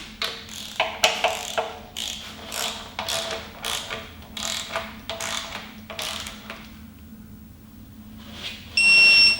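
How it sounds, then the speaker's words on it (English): A torque wrench ratchets on engine bolts during assembly of a Chevy 6.2L LT1 V8, a run of close, rhythmic clicking bursts that pause, then end with a steady electronic beep. "And you want to start at the innermost bolt and go to 18 foot-pounds."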